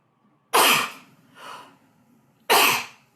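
Three explosive bursts of a person sneezing or coughing in a quiet room during an online meeting, the first and last loud and sharp, a softer one between them, with no talk.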